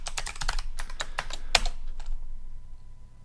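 A password typed on a computer keyboard: a quick run of sharp, close key clicks, then a short pause and a few more taps, with no voices over it.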